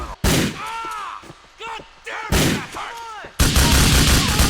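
Shotgun fire in Grand Theft Auto IV: three loud, close blasts spaced a second or more apart, the last one lingering, with quieter game sounds between them.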